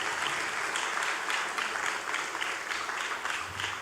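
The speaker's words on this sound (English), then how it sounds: "We applaud them today as well." Steady audience applause at a school graduation ceremony, a dense, even wash of many hands clapping that holds at a moderate level without pause and without voices.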